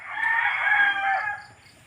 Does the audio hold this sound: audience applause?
no